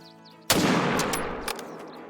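Single rifle shot at a buck in the hunting game Call of the Wild: a sharp, loud crack out of quiet ambience, followed by a long rolling echo that fades over about a second and a half.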